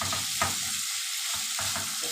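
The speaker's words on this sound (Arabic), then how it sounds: "دي بس تشويحه حلوه كده، واخلي اللون بتاعها ايه، تاخد لون" Meat sautés in a pan for Egyptian-style green beans with meat, a continuous close sizzle broken by rhythmic scraping strokes as it is stirred, with no voices.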